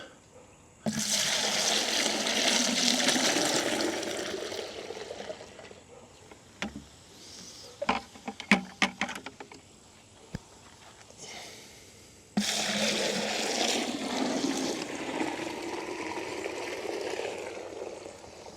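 Liquid being poured back and forth between garden buckets, two long loud gushing pours separated by a quieter stretch of drips, taps and plastic bucket clunks.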